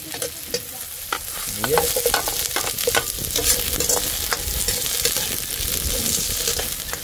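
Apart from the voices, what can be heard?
chili peppers being sautéed in a pan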